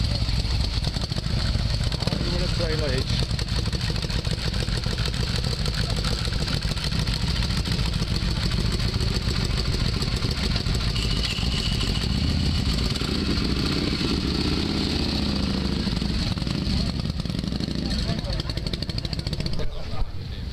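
Milwaukee Iron motorcycles idle at a sunny Sunday-morning motorcycle parking area at a classic bike market, their steady low engine rumble continuous and fairly loud, with people talking over it.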